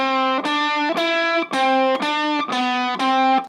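A distorted guitar strums the same chord in steady, evenly spaced bursts, strings pressed too hard, each cut off sharply before the next, loud and harsh.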